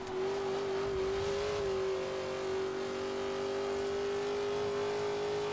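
A race car engine in Forza Horizon 3 holds a steady, sustained high drone at near-constant pitch, with only slight wavering, loud and close with no talk.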